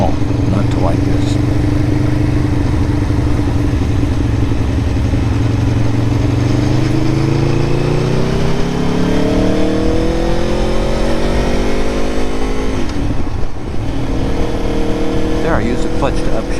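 An Aprilia Tuono motorcycle engine on a ride, loud and close, droning steadily and then revving upward through rising pitch with a brief dip at a gear shift before pulling on again.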